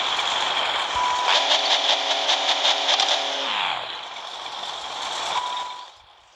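A video game car engine revs and holds a rising, buzzing drone, then drops away to a low idle and fades out near the end, with a brief electronic beep twice; no one talks.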